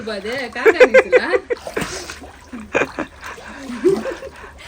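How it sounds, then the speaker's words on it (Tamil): A child splashing in a swimming pool at a new house, with repeated watery slaps and sloshes, close and lively, mixed with excited voices and someone talking throughout. "இவ்ளோ பெரிய ஸ்விமிங் பூல் தொட்டி செம்ம ஜாலியா குளிச்சிட்டு இருக்காரு"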